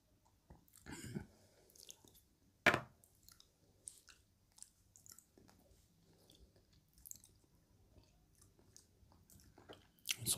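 Close, intimate chewing of fries during a mukbang, soft wet mastication with scattered crunches and clicks and one sharp bite, irregular and quiet, with no talking.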